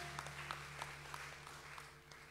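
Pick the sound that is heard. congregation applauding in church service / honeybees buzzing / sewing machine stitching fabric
congregation applauding in church service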